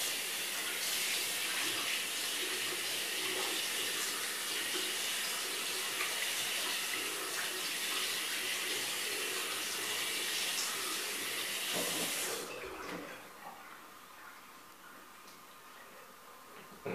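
Water runs steadily from a bathroom tap into a sink, a continuous splashing rush that fills the first twelve seconds before cutting off, leaving a quieter room with faint ticking.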